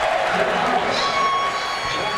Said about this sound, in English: deserved applause from this sellout crowd as the 2003 national champions are honored